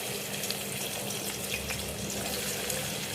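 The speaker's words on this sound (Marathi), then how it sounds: "कांदा टाकूया" Chopped onion dropped into hot oil in a pan while cooking a vegetable curry, giving a steady, continuous sizzle and hiss at moderate volume with no talking.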